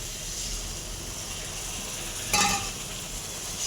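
Spice paste with ground coriander frying in oil in a pan after a splash of water, a steady close sizzle with a brief louder hiss and scrape of stirring midway, no talking.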